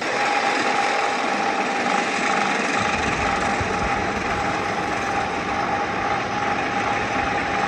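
The Jersey Devil roller coaster train rolls out at Six Flags Great Adventure with a steady, rumbling mechanical roar and clatter that swells after the first few seconds, loud and continuous, with no speech.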